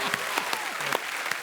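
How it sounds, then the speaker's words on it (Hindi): Studio audience at a Hindi television comedy show breaks into brisk, dense clapping, a short burst of lively applause close to the microphone. "ठोको ताली।"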